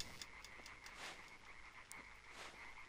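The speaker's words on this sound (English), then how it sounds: "I hear, like, frogs." Frogs croaking in the dark forest of the video game Limbo, a faint, dense chorus of repeated croaks and clicks with a steady rhythm, heard alone without talk.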